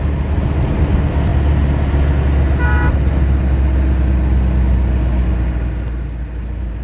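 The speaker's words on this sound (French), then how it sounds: "La circulation à Madagascar reste toujours pour nous une source d'étonnement et parfois, il faut bien l'avouer, d'inquiétude." Road traffic in Madagascar roars loud and continuous with close engine rumble, and a short car horn toot cuts through partway before the noise eases slightly at the end.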